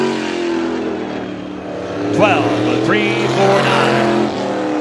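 A supermodified race car runs a time-trial lap at Star Speedway, its engine a steady, droning hum with rising whine, while an announcer talks over it.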